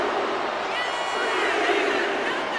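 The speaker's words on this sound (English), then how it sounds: "And Jacy is revving this crowd up." Arena crowd in the WWE 2K26 wrestling game cheering and roaring steadily throughout an NXT last man standing match, a dense continuous wash of noise with no clear breaks.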